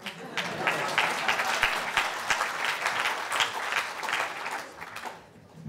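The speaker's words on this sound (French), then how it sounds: "Vous pouvez applaudir si ça vous plaît" An audience at a talk on natural computer interfaces breaks into sustained applause after an augmented-reality demo, dense clapping that tapers off near the end.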